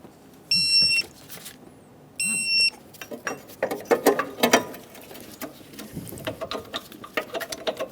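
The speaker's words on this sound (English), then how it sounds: "Torque the transmission mount bolts to 33 foot-pounds" Ratcheting clicks and metallic clatter as transmission mount bolts are torqued on a 2003-2007 Honda Accord 3.0L V6, with two short tonal beeps at the start followed by a steady run of close, sharp mechanical clicks.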